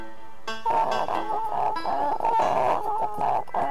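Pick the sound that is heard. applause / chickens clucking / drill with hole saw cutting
chickens clucking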